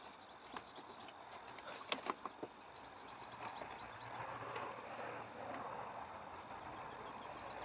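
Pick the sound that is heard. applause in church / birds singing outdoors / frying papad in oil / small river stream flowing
birds singing outdoors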